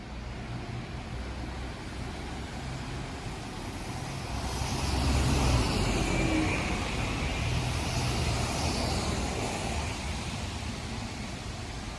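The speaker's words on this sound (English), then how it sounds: "Here on the left approaching is a diesel bus, followed by an electric bus" Steady roadway rumble as a diesel bus passes, swelling midway, followed by a quieter electric bus, heard at a street in Amsterdam.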